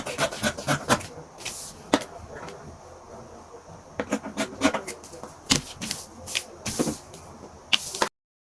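Scissors cutting out the back piece of a paper sewing pattern for a corset blouse, a run of crisp snips, rustles and paper scrapes at close range, no speech.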